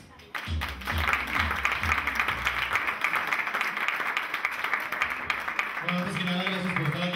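A crowd applauds to welcome a singer at a 2006 anniversary show, a broad steady wash of clapping over music, with a voice coming in near the end.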